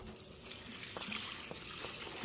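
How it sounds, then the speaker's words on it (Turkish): Water is poured generously onto a potted plant, making a soft, faint trickling and splashing that runs steadily for a couple of seconds at low volume. "Şöyle suyunu da bol vereyim."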